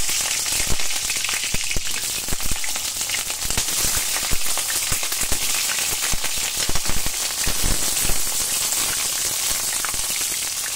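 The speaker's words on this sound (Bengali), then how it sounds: "কড়াইয়ে তেল গরম হয়ে গেছে, পটলগুলোকে ছেড়ে দিচ্ছি" Pieces of pointed gourd (potol) fry in hot oil in a wok, giving a loud, continuous close-up sizzle dense with sharp crackles and pops throughout, with no voices.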